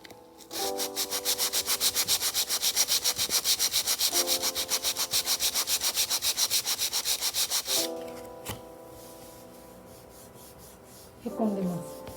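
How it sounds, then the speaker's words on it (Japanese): Hardened filler on a repair patch is sanded back by hand in fast, rhythmic back-and-forth strokes, close and steady for several seconds, then a pause, a few more rubs and faint handling sounds. "でそれで固めて、固まったなと思ったら削る。"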